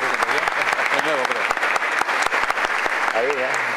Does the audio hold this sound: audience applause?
yes